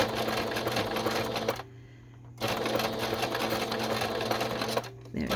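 A sewing machine stitches a fabric strip for a ring binder junk journal in two steady, rapid runs of close mechanical whirring, with a short pause between them and another brief stop near the end.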